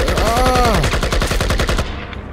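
Rapid automatic fire from an AK rifle in a first-person shooter game, a loud, close burst of evenly spaced shots lasting about two seconds before cutting off.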